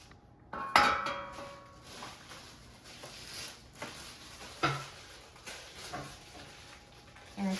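Inner basket being pulled out of a Cosori air fryer, with a sharp metallic clank at the start, then scattered lighter clinks and knocks of metal and plastic, close and fairly quiet between the hits.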